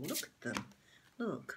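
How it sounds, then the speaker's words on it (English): Tarot cards shuffle in a few quick, papery riffling bursts, spaced between short bits of someone speaking close by. "These are hard to shuffle"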